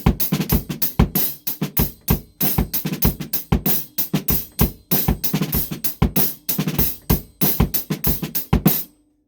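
A snare drum plays drag rudiments with grace notes in a quick, steady run of crisp strokes, the doubled grace hits audible ahead of the accents, played close and alone for about nine seconds.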